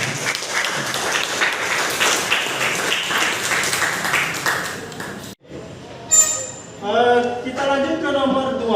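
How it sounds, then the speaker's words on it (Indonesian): A classroom of pupils claps their hands together, a brief burst of moderate clapping that cuts off abruptly, followed by a short tone and then a person speaking. "tepuk tangan dulu semuanya"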